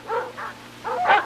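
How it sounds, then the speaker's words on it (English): Several short barks and yips from dogs, in quick bursts with brief gaps, fairly close. "An army of dogs, all headed in one direction."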